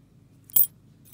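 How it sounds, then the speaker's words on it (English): A single brief jangle of a small bunch of keys, a sharp metallic rattle around the middle of a quiet moment, with faint low background noise before and after. "There's some keys for one. Here's some keys for one."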